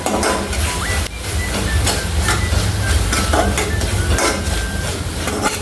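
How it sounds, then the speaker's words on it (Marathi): Masala cooks in oil for a green moth bean curry, giving a loud, steady sizzle and hiss close by, with occasional stirring scrapes against the pan and no talking. "एक पाच मिनटं आपल्याला असंच परतून मसाला शिजून घ्यायचा तेल सुटेपर्यंत"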